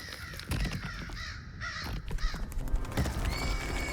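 Crows cawing in a video game, several raspy calls rising over a background bed of game ambience, with horse-like whinny sounds and hoof clops mixed in.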